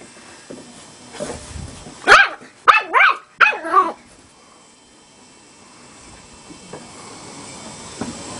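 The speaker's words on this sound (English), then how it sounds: "Big dog." A big dog barks several times outdoors near Yellowstone, with one short bark followed by a quick cluster of three loud, close barks, then quiet background.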